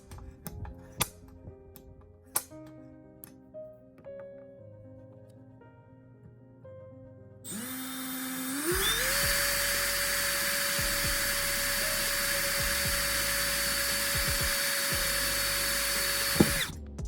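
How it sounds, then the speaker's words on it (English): Power driver fastening brackets onto a desk built from a used solar panel PV module: several sharp taps, then a long steady motor whine that ramps up in pitch and holds loud for about eight seconds before stopping. "Now we can attach our brackets using a driver."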